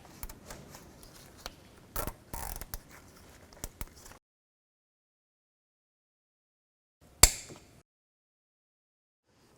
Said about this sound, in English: get a new wire tie and put it on the inner bellow boot